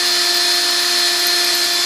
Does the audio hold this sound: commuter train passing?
no